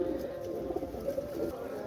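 Pigeons kept for sale give a low, continuous cooing that fills a brief moment, close and steady, with no one talking.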